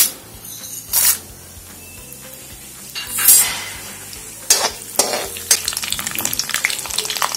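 Mustard seeds splutter in hot oil, crackling and sizzling steadily in a pan, with sharp popping bursts and a scrape of a spoon stirring now and then.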